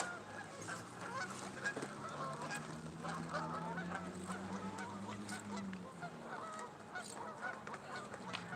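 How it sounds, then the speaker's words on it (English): A large flock of about fifty geese honks constantly, a dense chorus of overlapping calls close by that keeps going without a pause and with no talking. "Got invaded by geese."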